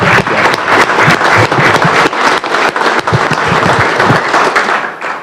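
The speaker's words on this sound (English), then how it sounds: "Let's give her a round of applause." Loud, dense audience applause fills the Alabama Senate chamber, steady clapping from many hands with a few sharper claps poking through, tapering slightly at the end.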